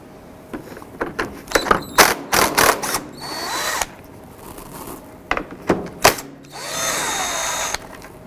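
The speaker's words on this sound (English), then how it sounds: "we're going to go ahead and remove these 4 bolts here" A power drill or impact driver backs out 10mm radiator fan bolts on a 2007-11 Honda Civic, in several loud close bursts with pauses, clicks and ratcheting between runs, the last a long spin-down.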